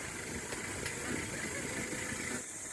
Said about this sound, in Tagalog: Dito puro engine brake.